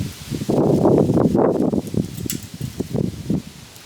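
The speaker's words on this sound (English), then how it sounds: "Hopefully you can hear me over the wind." Wind gusting outdoors on a hot summer evening in Denver, a loud, rough rumbling roar that rises and falls in uneven bursts across the whole stretch, with no voices heard.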